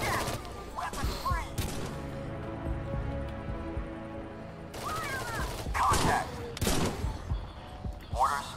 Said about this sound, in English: the battle rifle is very powerful. It's definitely getting through